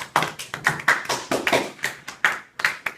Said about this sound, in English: So let's have a warm round of applause for Abraham Lincoln.